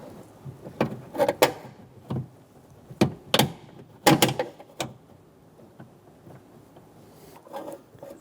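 Close plastic clicks, snaps and short scrapes come as a pick pries open a white clip and a door-handle cable is pulled free inside a rear door of a 2014–2018 Chevrolet Silverado 1500. The bursts are scattered and irregular, with no talking.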